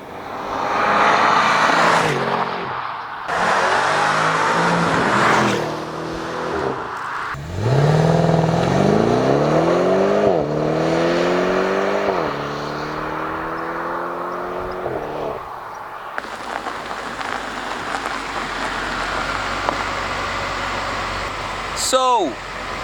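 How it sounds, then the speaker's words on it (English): A BMW M550i xDrive V8 revving repeatedly with rising and falling engine tones, followed by a steadier exhaust note and a few crackling pops, loud and close, with some talk mixed in. "It's a dark pop, so it's a good V8 pop."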